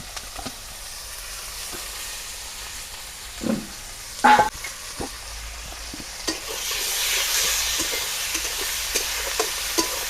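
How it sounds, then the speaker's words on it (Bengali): Onion, bay leaves, cinnamon and cardamom fry in hot oil for a Bengali rui fish curry, with a steady sizzle, sharp pops and a spatula scraping against the pan, and the hiss swelling toward the end. "তেলটা গরম আছে, এলাচগুলো ফুটবে"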